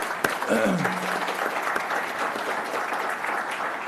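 A round of applause fills a school board meeting room, moderately loud and steady throughout, with a brief voice heard near the start.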